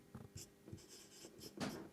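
Chalk scratches and taps on a classroom board in short separate strokes during a physics lesson on Ohm's law, faint and close, with no voices over it.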